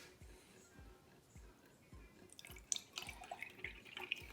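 Milk pours into a cup for dalgona coffee, a faint liquid trickle and splashing that grows over the last couple of seconds, preceded by soft regular low thumps.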